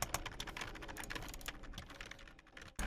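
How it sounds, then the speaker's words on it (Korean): A professional gamer types very fast on a computer keyboard, producing a dense, rapid, close clatter of keystrokes that ends in a sudden louder clack, with no talk. "이 마이크는 키보드 소리도 크게 들려요."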